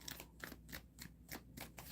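Tarot cards are shuffled in quick rhythmic riffling bursts, about six soft crisp flutters in two seconds, faint and close with no talk.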